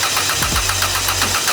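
A Honda K24/20 engine in a DC2 runs close and loud during its first start-up, giving a brief, steady, throaty mechanical drone.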